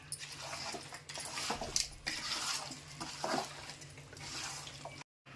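Pieces of korameenu fish being stirred with masala in a pot, faint irregular scraping and clinking of a spoon against metal with soft wet squelches, occurring in short bursts.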